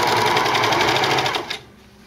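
A serger trims and stitches the seam of a striped tank top in a fast, loud, steady whir, heard close up and alone, then cuts off abruptly near the end.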